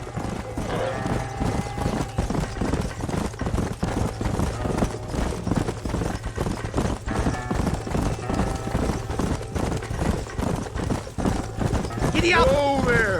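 Horse galloping in Red Dead Redemption on PS3, a steady rapid clip-clop of hooves running throughout with a brief whinny near the end, mixed with game ambience and voices.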